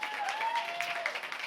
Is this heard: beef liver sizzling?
no